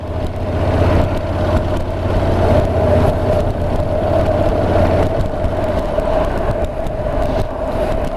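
A Honda NC750X DCT motorcycle engine under light throttle gives a steady, loud low hum with a continuous mechanical drone and slight rise in tone, heard alone without talk.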